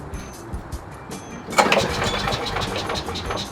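A Briggs small engine on a Craftsman leaf vac chipper is cranked with the choke half on; after a quiet pull it catches in a sputtering burst and runs briefly, stumbling.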